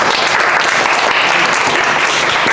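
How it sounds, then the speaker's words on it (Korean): Students at a culinary high school give a burst of loud, close, continuous applause during a pork butchery lesson, a dense wash of clapping with no speech on top. "자, 박수 한번 줘요"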